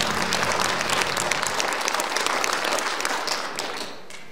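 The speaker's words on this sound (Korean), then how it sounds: "따뜻한 박수로 환영해 주시기 바라겠습니다" Warm audience applause welcoming the Yeongdong county governor to the stage at the opening ceremony of the Nogeun-ri International Peace Forum, a dense steady clapping that fades out toward the end.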